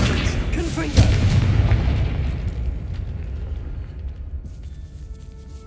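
A Confringo fire spell bursts in Hogwarts Legacy, a single booming explosion near the start that trails off into a long rumbling decay with game ambience underneath.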